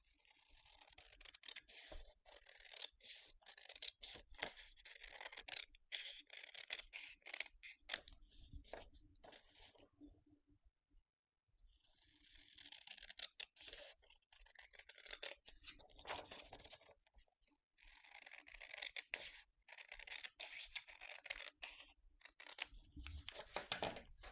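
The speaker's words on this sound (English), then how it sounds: "Just quickly cut out the edges." Scissors snip and scrape through the paper edges of a new planner, in bursts of close, crisp cutting and rustling broken by a short quiet gap in the middle.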